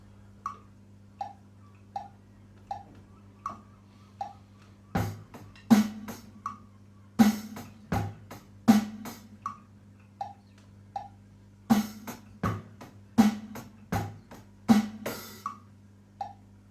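A steady, clock-like tick pattern of small clicks runs throughout, joined by a drum groove of punchy hits and snares in varying sequences.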